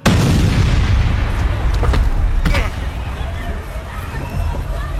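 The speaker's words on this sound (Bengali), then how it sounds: "আর ঠিক তখনই ফাটল তৃতীয় বোমাটা।" A loud bomb blast erupts at the very start, then a heavy rumbling roar carries on and slowly eases off.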